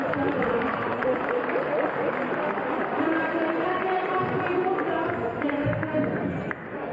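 Applause in a legislative chamber after a ministerial interpellation, dense crowd clapping mixed with murmuring voices and babble, steady and fairly loud throughout the clip.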